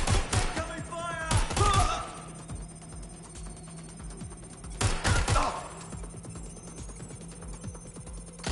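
Video-game gunfire in Watch Dogs Legion on PS5 comes as two loud bursts of rapid shots separated by a quieter stretch of background game sound.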